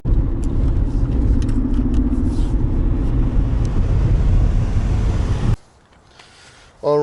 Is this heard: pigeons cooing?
no